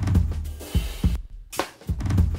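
Floor tom drum track blended with Slate Trigger 2 samples, played without volume automation: several deep, booming hits at an uneven rhythm, loud and close, with a brief gap of near silence midway.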